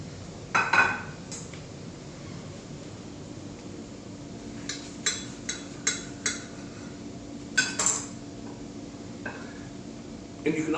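Cutlery scraping and clinking against dishes while a steak and cheese burrito is plated, with several sharp metallic taps and clinks spread out over quiet kitchen background.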